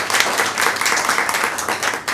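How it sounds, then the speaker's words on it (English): An audience at a startup-scene event gives the panelists a round of applause, with full, continuous clapping from many hands throughout. "I'd love to give a round of applause for our panelists"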